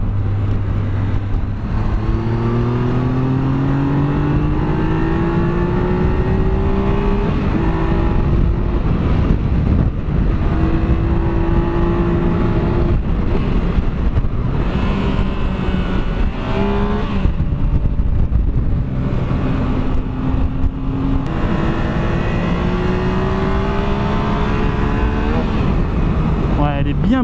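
A 2017 Triumph Explorer XC motorcycle engine drones steadily while riding, its pitch rising and falling as it shifts gears, with wind noise and voices talking underneath.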